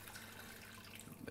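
Water poured from a tap or jug into a cooking pot over food in a kitchen, a faint, steady splashing rush that grows a little louder toward the end.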